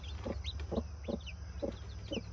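A broody mother hen clucks to her chicks in a steady series of five soft, evenly spaced low clucks, with faint chick peeps above and a low background hum.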